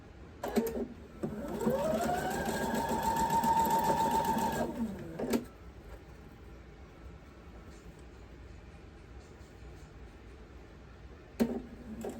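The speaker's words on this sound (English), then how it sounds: "now I'll sew them all together." A sewing machine runs in one sustained stitching burst as quilt block pieces are joined, a close mechanical whir that starts, holds for about four seconds and stops, followed by quiet and a brief clunk at the end.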